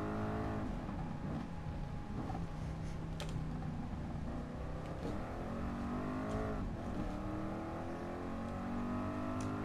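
Ford Mark IV race car engine lapping Le Mans in the video game GT Sport, a continuous droning engine tone rising and falling with gear shifts and throttle, steady and moderately loud.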